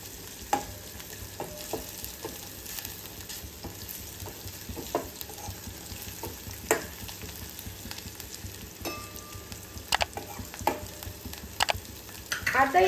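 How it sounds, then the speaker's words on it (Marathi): Curry leaves and turmeric tempering for kokum kadhi crackle softly in hot oil, a quiet, steady fry with intermittent spoon clinks and stirring scrapes against the pan. "फोडणी छान व्यवस्थित तळतळू द्यायची।"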